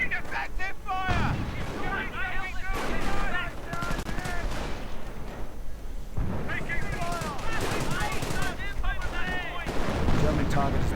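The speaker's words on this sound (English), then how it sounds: "And more artillery." Repeated booms and gunfire in a World War II strategy game, with bursts of shooting and heavy blasts in a busy battle mix, broken by short pauses and overlaid with voices.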